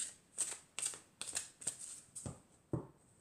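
A deck of oracle cards is shuffled and cut by hand, giving a run of about seven soft, papery riffling bursts at an even pace, close and fairly quiet, with no talking.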